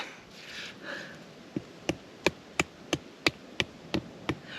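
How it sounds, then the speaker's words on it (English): Tent pegs are hammered into hard ground at a campsite in Murray Sunset National Park, Victoria: a run of nine sharp, evenly spaced metallic strikes, close and crisp, after some soft rustling. "ground is so hard, so I found myself a hammer"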